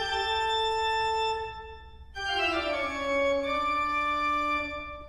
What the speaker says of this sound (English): it's gonna take this bass music from Bach, which sounds like this